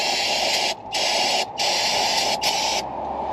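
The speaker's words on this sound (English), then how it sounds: "It's like brake parts cleaner, but it's go parts cleaner." Go parts cleaner aerosol sprays onto a carburetor in three long, loud hissing bursts separated by short pauses, with a softer trailing hiss at the end.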